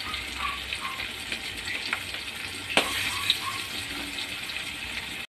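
Soft, steady sizzling of dried salted flying fish frying in a pan, with a few faint clinks and scrapes, no voices.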